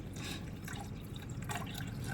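Water being poured into a pot for vegetable soup, a faint, steady trickle and splash with light dripping, close by and without voices.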